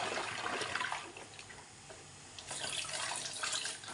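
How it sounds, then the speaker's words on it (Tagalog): Clothes being washed by hand with water, a steady wet swishing and splashing that grows busier and louder toward the end, with no talk. "Araw-araw maglaba para walang marumi na damit."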